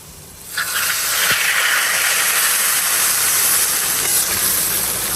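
A sudden loud hiss bursts in and holds steady, a dense spluttering sizzle of spices tempering in hot oil for kadhi pakora, with no talking.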